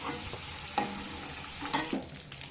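Paneer fries in a pan with a soft continuous sizzle, broken by a few clinks and scrapes as the pieces are stirred and moved about, close and fairly quiet.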